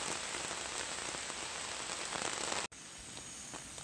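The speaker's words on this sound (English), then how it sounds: "Still raining" Rain drums steadily and loudly on a hammock camping tarp, a dense, even patter that cuts off abruptly near the end and gives way to a softer continuing hiss.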